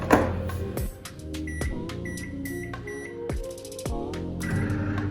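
Oven control panel beeping while being set for baking, several short high electronic beeps spaced over a few seconds against a humming kitchen background.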